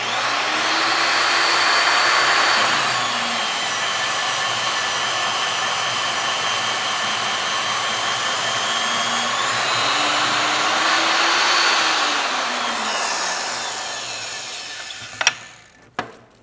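An Aquatherm butt fusion machine's electric planer facing plastic pipe ends, a steady whirring motor with a shifting scraping pitch as it cuts, ending with a couple of sharp clicks.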